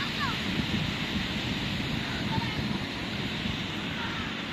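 Steady wind rushes and buffets the microphone on Paturia beach, between hills and sea, a constant broad roar with faint surf underneath.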